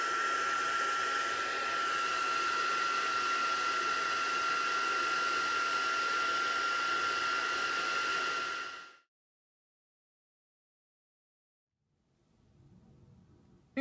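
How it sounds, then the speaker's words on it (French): A heat gun blows hot air steadily over a card panel for hot embossing, a loud, even whoosh with a faint whine that runs for about nine seconds, then cuts off to silence before a faint rustle returns. "Il me reste à le chauffer avec le heat gun pour réaliser mon embossage à chaud."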